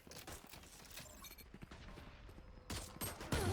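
Rapid bursts of gunfire in a video game crackle densely and fairly loudly throughout, with a heavier, sharper burst near the end.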